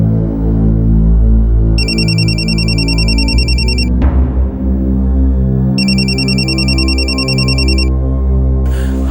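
A telephone rings loudly, with two electronic ringtone bursts of roughly two seconds each, heard over a constant heavy musical drone or hum, with no speech.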